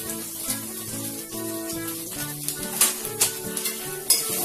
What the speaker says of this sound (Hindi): हरी मिर्च डालने के बाद में इसमें ये गाजर हम डालेंगे पहले।